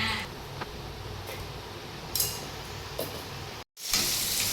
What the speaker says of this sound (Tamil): எண்ணெய் ஊற்றியாச்சு, பட்டை, லவங்கம், கிராம்பு இதெல்லாம் போட்டாச்சு, அப்புறம் வெங்காயம் போட்டாச்சு, போட்டு வதக்கிட்டு இருக்கேன்